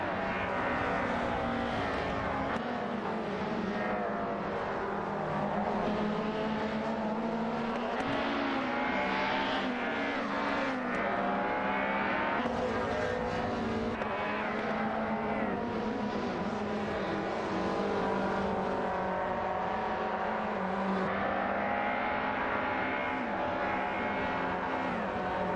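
Race cars in an AI racing video game roar continuously, with layered engine whine and revving that swells and fades as cars pass close by, loud and unbroken throughout.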